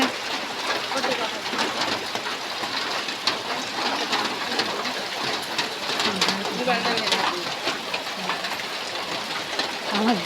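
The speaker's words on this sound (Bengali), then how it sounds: "দেখুন অনেক জোরে কিন্তু বৃষ্টি হচ্ছে বৃষ্টির শব্দে কিন্তু বুঝতে পারতেছেন কত করে বৃষ্টি হচ্ছে" Heavy rain pours down in a dense, constant hiss, with a person talking over the downpour and a bird cooing faintly now and then.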